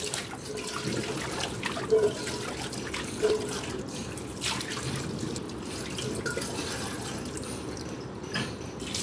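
Running water rinses a burnt steel pot in a sink, with a soft steady trickle and splash plus a few brief clinks and drips close by over several seconds.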